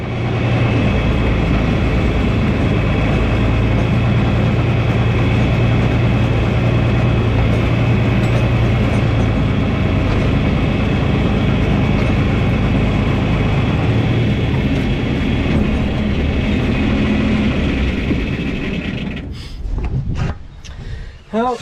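A TG 210 tractor engine running steadily with a low, heavy idle rumble for about twenty seconds, close and loud, before fading into scattered knocks and handling noises at the end.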